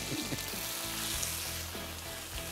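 Pieces of pork browning in hot oil in a pan for Portuguese pork and clams, giving a continuous crackling sizzle with occasional pops, close and steady, with faint low background hum.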